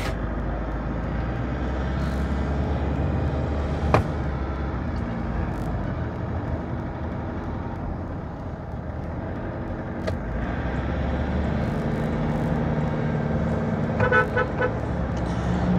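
A vehicle with a 2.5-litre diesel engine drives fast along a coastal road, giving a steady low engine drone and road rumble with a few brief sharp transients and no voices.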